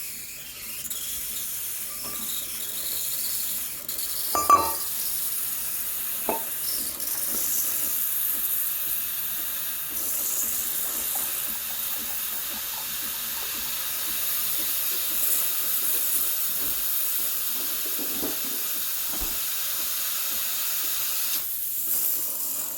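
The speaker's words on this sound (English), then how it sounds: "If you turn it towards you, you'll get steam. So give it a few seconds, it'll start steaming." Steam hisses steadily from the wand of a Breville Barista Express BES870 espresso machine, a close, continuous airy rush that builds slightly in strength over twenty seconds, with a few faint clicks.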